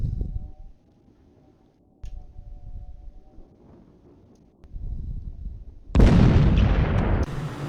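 A missile strike explosion in the Falcon BMS flight simulator ends a stretch of low cockpit rumble and faint tones with a sudden loud, broad blast that rolls on for about two seconds.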